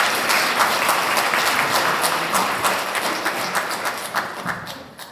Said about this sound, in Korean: 우리 손준 회장님께 큰 박수 부탁드리도록 하겠습니다.